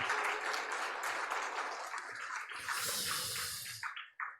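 A church congregation at a Christmas thanksgiving service bursts into dense, sustained applause, many hands clapping at once in a hall, with a brief louder swell before it fades out.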